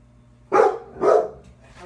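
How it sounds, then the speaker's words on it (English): Jack, a pet dog indoors, lets out two loud, close barks about half a second apart, followed by a fainter yip. "that's my dog there going off"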